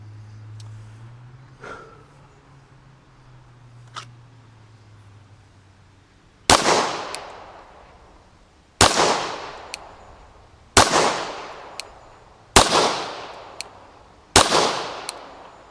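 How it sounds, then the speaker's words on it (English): PSA Dagger pistol firing at a cardboard target about seven yards off, five loud sharp shots spaced roughly two seconds apart with ringing decay, after a few fainter knocks and a low hum. "shots at cardboard about 7-ish yards away"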